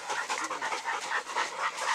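A dog pants rapidly and rhythmically while running along a wooded yellow-blazed trail, close and fairly loud, breaths coming in quick even bursts.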